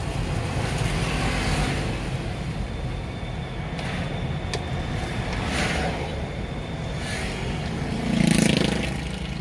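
Toyota Avanza automatic car engine running in slow holiday traffic, a steady low drone with a brief surge of acceleration near the end, heard from inside the car.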